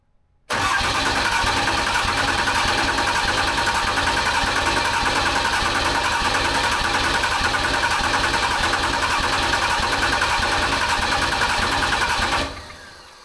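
A diesel Ram 3500 pickup with a newly installed FASS fuel system cranks and catches, its engine noise loud and continuous for about twelve seconds before cutting off abruptly, with no talking.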